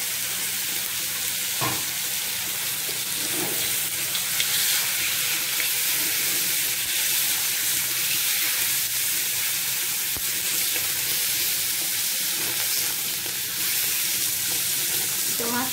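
Goat meat sizzles and is stirred as it fries in a pot for spiced goat soup, a steady loud crackling hiss with occasional scraping stirs throughout.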